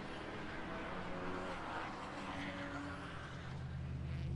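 A race car in the Continental Tire SportsCar Challenge passes the Andretti hairpin at Laguna Seca, its engine a loud, steady broadband roar that holds throughout and rises slightly at the end, with no clear individual pass-by.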